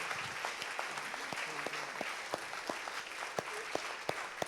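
Church congregation at a Christian gathering clapping in sparse, uneven claps, fairly faint and spread out like a small crowd, with a few louder individual hand claps standing out.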